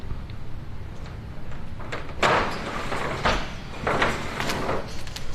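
Cargo door of the C-47 "Tico Belle" being pulled open inside the fuselage, a series of scraping, rattling broadband bursts over steady background noise, with heavier clunks midway through.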